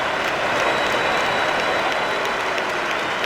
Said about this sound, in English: This guy will get the biggest round of applause he's ever got from Chelsea fans.